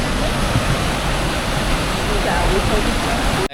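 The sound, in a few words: small waterfalls on hike to Avalanche Lake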